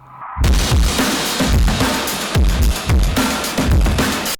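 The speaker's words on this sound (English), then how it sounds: "I'm doing some pretty tough distortion." Loud, heavily distorted guitar chugging in rhythmic bursts, a harsh fuzzy wall of sound with punchy low hits roughly every half second.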